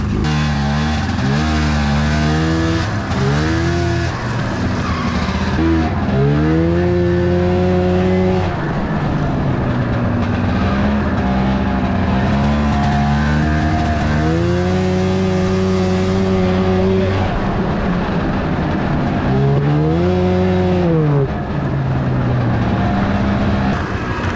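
A cheap snowmobile's engine revs hard while riding over snowy hills, its pitch climbing and dropping in repeated surges, loud and close, with brief easing between bursts of throttle.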